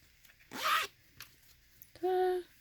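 A zipper on a freshly sewn zipper pocket is pulled in two quick, close strokes, the first a rough rasping slide and the second a brighter, more tonal zip, separated by a short pause.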